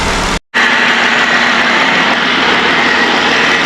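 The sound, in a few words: Jeep Wrangler 3.6L engine running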